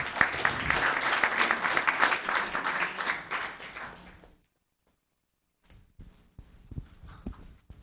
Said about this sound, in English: Another round of applause for Pamela as she...